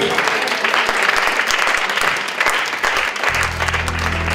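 Church congregation applauding and cheering during worship, a dense, sustained wash of clapping and voices throughout, with a low musical tone entering near the end.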